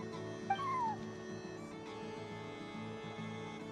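In Genshin Impact, a single clear cat meow rises and falls over steady in-game background music.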